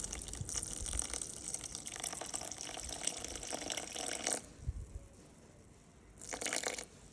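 Warm water is poured into yeast for a naturally fermented bread dough, a long gushing splash for about four seconds, a pause, then a short second pour, close and clear.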